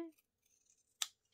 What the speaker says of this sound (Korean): 원단 가위로 잘라내어서 정리해 주시고요.